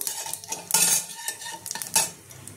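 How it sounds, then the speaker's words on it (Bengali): Whole cumin seeds and bay leaf hit hot oil in a pan for a Bengali fish curry, giving a brief crackling sizzle broken by a few sharp scrapes and clinks of a spoon against the metal. "গোটা জিরেটা, গোটা তেজপাতা, গোটা জিরেটা ফোড়ন দিয়ে দিলাম।"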